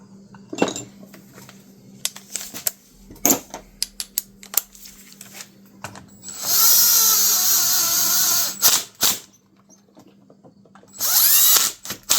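Power tool tightening the stator bolts on a Sea-Doo 951DI engine, with two sustained bursts of buzzing whir separated by short sharp metallic clinks and taps of tools and parts, close and fairly loud against a quiet workshop.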